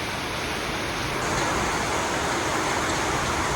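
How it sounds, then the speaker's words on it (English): Heavy rainstorm pouring down steadily with water rushing and flowing, likely into a concrete trench, as a dense, unbroken roar that stays loud and even throughout. "pretty great rainstorm"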